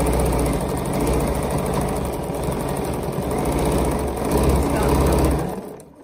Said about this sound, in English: the minute you turn it on, the needle starts going up and down